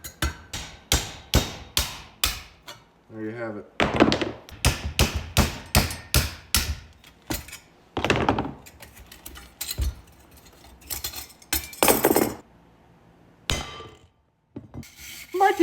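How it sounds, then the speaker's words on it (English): Sharp hammer blows beat on a welded exhaust flange, part of a straight pipe for a 2005 Cummins G56 dually truck. The strikes come in loud, close bursts of rapid metallic hits separated by pauses, and someone speaks briefly near the end. "So I'm gonna have to beat that around with a hammer"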